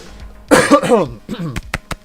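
A person clears their throat in a few rough, raspy bursts, close to the mic, followed by short sharp clicks.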